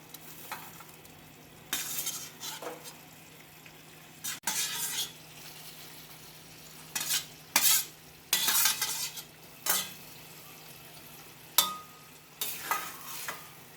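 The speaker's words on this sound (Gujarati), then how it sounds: "અને બધી જ વસ્તુને મિક્સ કરી દઈશું" A spoon stirs cauliflower and peas into a simmering curry gravy in a pan, giving a series of about ten separate scraping and clinking strokes over a low, faint bubbling background.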